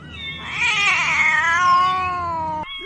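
Cats caterwaul in a long, loud, wavering yowl that rises and holds for nearly three seconds, ending abruptly, with no talking over it.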